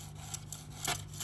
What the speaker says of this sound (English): So all the scraping has been done, more or less.